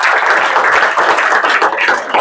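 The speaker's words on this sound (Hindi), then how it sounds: "अब तो तालियां हो जाए।" Students in a coaching class clap together, a loud, continuous round of applause that runs through the whole stretch with dense, overlapping hand claps.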